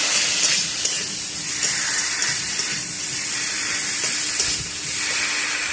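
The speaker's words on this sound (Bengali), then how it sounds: "আদা এবার এটা আরেকটু কষিয়ে নেব তো এটা খুবই কম কষাবো আদাটা বেশি ভাজবো না" Ginger paste fries in a pan for a cauliflower and egg curry, a loud continuous close-up sizzle like rushing water with faint pulsing swells and no voices.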